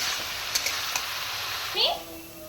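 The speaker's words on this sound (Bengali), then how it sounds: "আমি ভালোভাবে কষিয়ে নিচ্ছি।" Spices being stir-fried in oil in a pan for a pumpkin and shrimp curry, a steady soft sizzle throughout with a few light stirring clinks and a brief scrape near the end.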